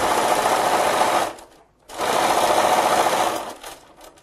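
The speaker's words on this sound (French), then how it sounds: "je vais faire une petite surpiqûre" A sewing machine topstitches a cotton pouch in two steady runs of rapid stitching, close and loud, separated by a short pause about halfway through.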